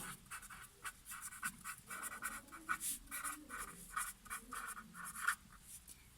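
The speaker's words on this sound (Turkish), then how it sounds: "Büyük harfle yazdım." A pencil writes capital letters on paper in a quiet room, giving a steady run of soft, close scratchy strokes with short pauses between them.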